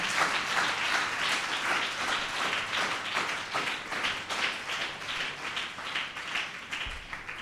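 Loud, sustained clapping from a church congregation, many hands beating in a thick continuous wash that holds steady for several seconds, close and without talk.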